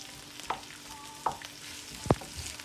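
Onions and bell peppers cooking in a pan for sweet-and-sour chicken: a soft steady sizzle under a few sharp scrapes and clinks of a utensil against the pan, the loudest near the end.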